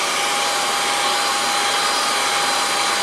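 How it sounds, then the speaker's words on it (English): A hair dryer blows a steady, loud, continuous whir with a faint tonal whine, used to dry a watercolor painting; no talking. "I want to introduce the hairdryer to you."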